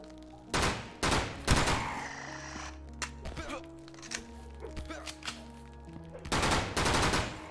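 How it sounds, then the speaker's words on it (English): Gunfire in bursts, loud sharp shots clustered at the start and again near the end, with scattered quieter thuds and clatter between. "Shoot the fucking gun"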